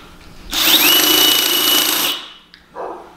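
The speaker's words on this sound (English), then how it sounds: "Because you used the drill?" A power drill whirs loudly and steadily for about a second and a half, then cuts off, followed by a brief click and a short softer rustle.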